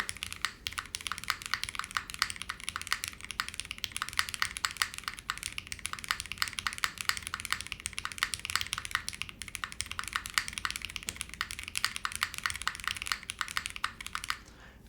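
Fingers type on a Magnum65 mechanical keyboard with an aluminum plate and foam, producing a fast, continuous stream of soft, muted clacks heard close and alone for the whole stretch.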